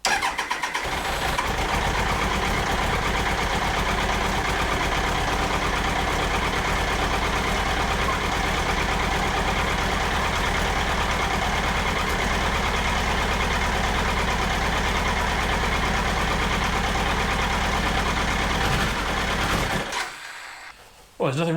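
A Triumph Trophy 1200 motorcycle engine idles steadily on choke, a loud, continuous mechanical hum that holds even for about twenty seconds before cutting out abruptly near the end.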